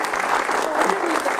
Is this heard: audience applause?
yes